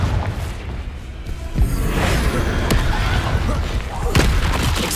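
Blasting-spell explosions boom in Hogwarts Legacy combat, with several heavy, reverberant bursts and sharp cracks spread across a dense, loud battle mix with some game voices.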